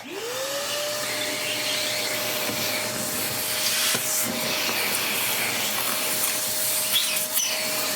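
V-TUF Mini HSV X2 M-Class vacuum spinning up and running continuously, a loud steady roar with a rising motor whine that settles into a constant tone, nearby and alone.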